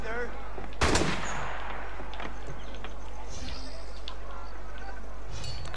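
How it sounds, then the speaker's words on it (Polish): Gunfire in Assassin's Creed Unity: one sharp, loud shot stands out early, followed by fainter scattered bangs and clatter, with a player talking over the game. "Kto do mnie tak strzela?"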